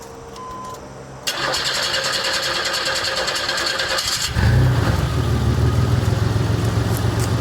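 A car's 2.8 liter V6 engine cranks with a whirring starter, catches after a few seconds, then settles into a loud, steady, close running rumble.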